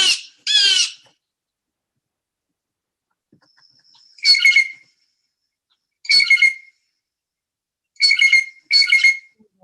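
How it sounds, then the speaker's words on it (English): A blue jay gives a series of harsh, hawk-like screeching calls: several short bursts spaced a couple of seconds apart, the last two close together, clear and fairly near against a quiet background, after an opening pair of calls. "now he sounds more like a hawk."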